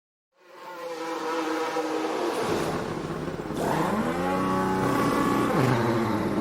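Formula One race car in a pit lane during a pit stop, a loud continuous engine roar with rising and falling revs and harmonic sweeps, busy mechanical noise throughout with no talk.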